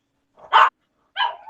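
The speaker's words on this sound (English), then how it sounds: "dog's barking about." A dog gives two sharp barks about half a second apart, close and fairly loud against silence.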